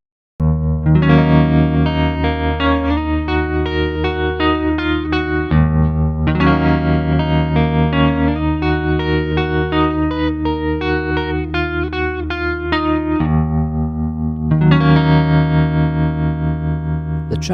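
A distorted electric guitar plays sustained chords through a Juniorverb Deluxe Plus amp module with spacious reverb at default settings, notes ringing out and overlapping in a wide wash of room sound.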